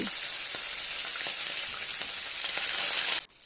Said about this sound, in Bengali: তেল গরম হয়ে গেছে এবার আমি এর মধ্যে মাছগুলোকে দিয়ে দিচ্ছি